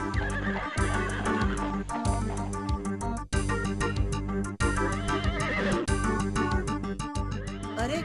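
A horse neighs and gallops in a Hindi animated folk tale, the whinnies and hoofbeats set against loud, continuous dramatic background music that runs throughout.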